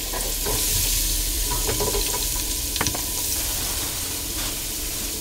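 Chopped onions and seasoning seeds fry in a pan for a mushroom curry, giving a loud, continuous sizzle with a few stirring scrapes and small pops, close by and without talk.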